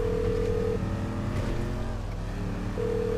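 The engine of a Vigero muscle car in GTA V growls at a low, steady idle with slight revving dips, fairly faint and with nobody talking.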